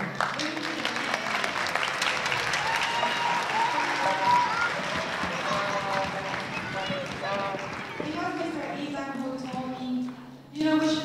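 An audience applauds at the El Sistema winter concert, with broad clapping in the first seconds, then music and voices taking over as it fades out.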